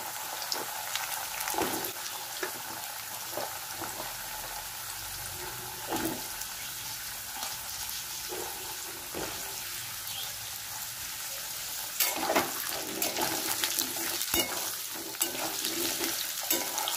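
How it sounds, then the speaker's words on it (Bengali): Potatoes fry in a pan over spices in a home kitchen, a soft, steady sizzle with occasional stirring scrapes and clinks, fairly quiet and close, with no talking. "আলুগুলো আমি হালকা লাল লাল করবো, ভেজে নেবো আলুগুলো।"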